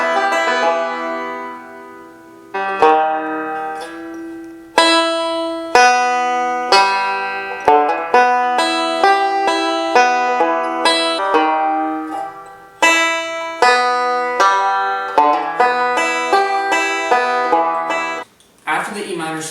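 Bluegrass five-string banjo picking a forward-backward roll through a tune at a beginner's pace, with bright plucked notes in steady rolling patterns, phrases restarting every few seconds and a slide near the end, played alone and close.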